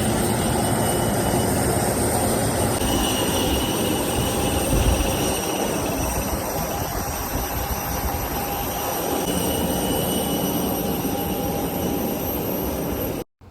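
An airport shuttle bus carrying passengers across the apron to their plane, heard from inside as a loud, continuous engine drone with steady whining tones that runs unbroken until an abrupt cut at the end.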